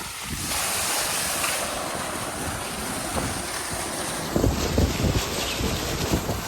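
Water gushing under pressure from a 2.5-inch pipe fed by a Rotomag 5 HP solar pump, a loud continuous rushing roar like wind and surf, with heavier splashing bursts near the end.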